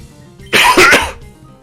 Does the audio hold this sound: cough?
yes